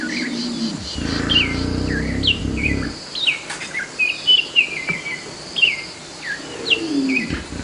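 Bright, repeated chirping phrases from a morning thrush carry over a low rumbling background in Kirawira in the Serengeti, Tanzania, with no voices.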